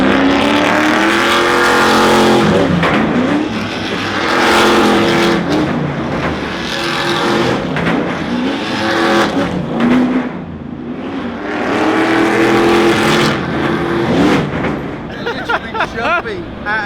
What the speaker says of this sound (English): just had to see this truck race